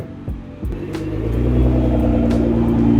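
Nissan R35 GT-R engine: a deep, steady rumble that builds over a couple of seconds and then holds strong and close, with no talking.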